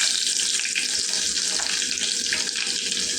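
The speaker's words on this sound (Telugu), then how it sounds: "నూనె వేడెక్కింది. దీంట్లో మనం ఆవాలు జీలకర్ర వేసుకుందాం. దీంట్లో మనం వెల్లుల్లిపాయలు వేసుకుందామండి." Mustard seeds, cumin and garlic sizzle in hot oil, a loud, steady crackling hiss that holds evenly throughout with no voices.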